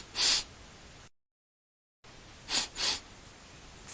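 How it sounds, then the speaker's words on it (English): Short, sharp nasal sniffs, one alone and then a quick pair a moment later, close and fairly loud against a quiet background, with a silent gap in between. "Sniff."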